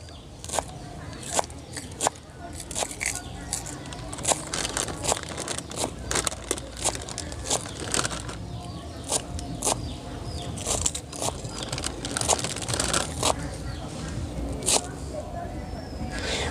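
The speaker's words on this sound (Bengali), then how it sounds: "ধনে পাতাগুলো কুচি কুচি করে কেটে নেবো" A knife finely chops fresh coriander leaves on a board, a run of quick, fairly even taps and crisp cuts continuing steadily throughout.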